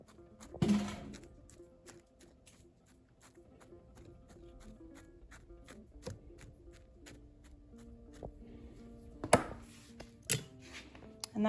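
A capped Sharpie marker pokes pepper seed holes into soil, giving a few soft, dull thunks and taps spaced irregularly, with a couple of sharper close knocks near the end amid faint background rustling.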